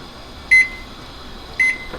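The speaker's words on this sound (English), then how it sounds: "Set the timer for 5 minutes." A kitchen timer beeps twice, two short, loud electronic beeps about a second apart in a quiet kitchen.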